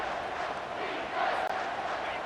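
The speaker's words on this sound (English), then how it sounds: "the noise from this crowd on 3rd and 4" Stadium crowd roar from the College Football 25 video game on a third down, a steady loud wash of cheering and yelling that holds without a break.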